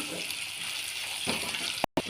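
Green chillies, urad dal and cumin frying in a pan, a dense close sizzle with a brief stir near the end and a sudden cut of silence.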